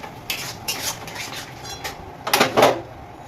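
A spoon scrapes and clatters in a pot as a cornflour slurry is stirred into Schezwan chicken, with repeated metallic strokes growing louder toward the end, over a faint sizzle and no talking.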